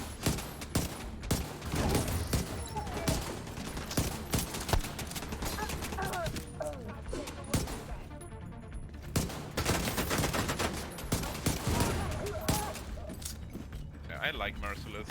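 Dense, continuous LMG fire in The Division 2, long rattling bursts with sharp impacts and explosions, loud and near throughout, with a player talking over the gunfire at times.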